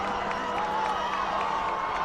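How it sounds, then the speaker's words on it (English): Crowd in the bleachers at a high school football game, cheering with a steady, dense roar of many voices and scattered shouts throughout, with no pauses. "And they're getting the crowd into it."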